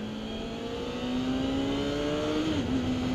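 A Kawasaki ZX6R 600 sport motorcycle engine hums steadily nearby, its pitch climbing gradually with a brief dip near the end, as on a first ride out on the road.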